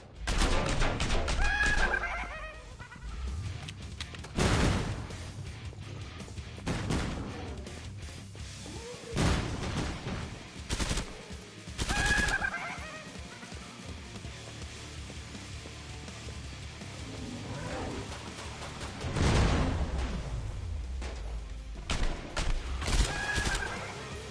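Gunfire in Killing Floor 2 bursts out in loud, irregular volleys with heavy impacts and crashes, separated by quieter stretches, while creature shrieks cut through the chaos.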